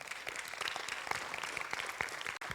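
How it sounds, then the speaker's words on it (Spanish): A church congregation claps together after a sermon, a steady burst of dense, moderately faint applause filling the room with a few louder individual claps. "Dale un aplauso al Señor."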